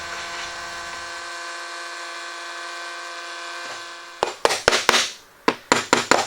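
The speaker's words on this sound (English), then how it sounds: "clearing out the center with a jigsaw and routing that pattern" A jigsaw and router cut out a wooden pattern for a router outfeed table: a steady, close power-tool whine runs for about four seconds, then stops and gives way to a quick series of sharp knocks.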